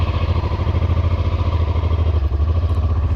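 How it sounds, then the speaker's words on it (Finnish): A moped's small engine runs steadily and close by as it sets off on a sunny 24-degree day, its dense low putter pulsing evenly throughout with a slight clattery edge and no voices over it. "Mopohan lähti käyntiin, niin lähdetäänpä liikenteen."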